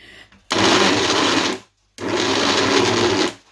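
A mixer grinder whirs loudly through two bursts of about a second and a half each, separated by a brief pause, while it grinds a palm tuber chutney with onion.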